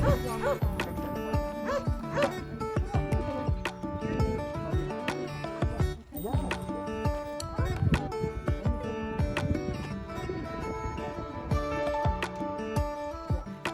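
Dogs bark and yip over and over at an animal shelter in Cuenca, loose rather than kenneled, sharp overlapping barks filling the scene near and loud, with people talking underneath.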